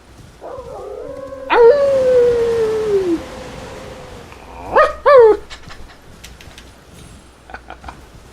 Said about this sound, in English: Spawn the wolves.